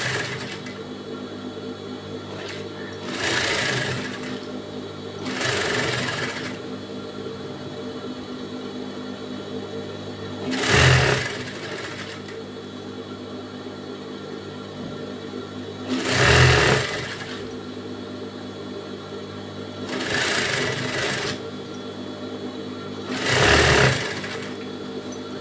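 A sewing machine stitches a silk saree in short separate bursts of rapid whirring, six runs spread across the stretch, with a quiet steady hum between them.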